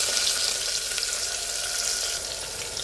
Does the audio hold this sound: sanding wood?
no